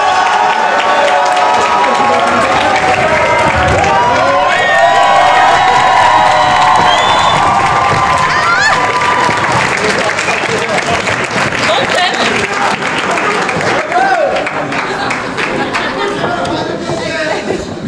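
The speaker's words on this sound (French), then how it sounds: "On applaudit le jury." An audience at an improv theatre awards evening applauds the jury, dense sustained clapping with cheers and shouts filling the room, voices mixed in throughout.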